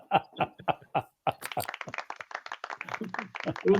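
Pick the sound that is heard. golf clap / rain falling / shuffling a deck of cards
golf clap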